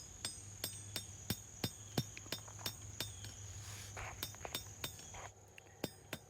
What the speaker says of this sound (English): I've got to knock a little backwards curve into the blade.